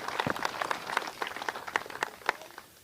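Audience applause at a National Football Foundation awards showcase: a room of scattered claps patters along steadily for about three seconds at moderate level, then thins out toward the end.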